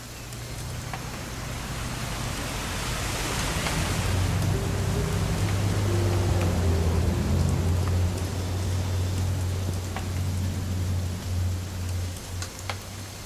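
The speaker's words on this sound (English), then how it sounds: "It's gonna rain the whole weekend, isn't it?" Steady rain falls in the video game What Remains of Edith Finch, a continuous even hiss of drops over a low rumbling hum, with no talking.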